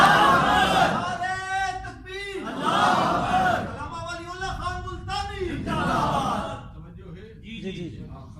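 A crowd answers in unison with a loud chanted takbir during a mosque sermon, several rhythmic shouted bursts with gaps between them.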